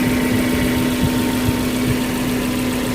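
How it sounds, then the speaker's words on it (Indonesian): A 2013 Suzuki Carry Futura 1.5 pickup idles smoothly at close range, a steady even engine hum with a constant low tone and soft regular pulsing, no voices. "Suaranya juga halus, suara mesin halus, tidak ada noise yang aneh-aneh ya"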